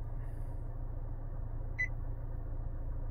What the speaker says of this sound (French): Donc là il est en train de me dire voilà, avertissement pression pneu.